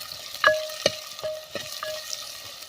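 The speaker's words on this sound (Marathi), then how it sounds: "आता भाज्या आपल्या चांगल्या परतल्या गेल्या आहेत." Vegetables with tomato sautéing in a pan for traditional millet khichdi, with a few sharp scrapes and clinks of a spoon stirring over a soft, steady sizzle, close by and with no talking.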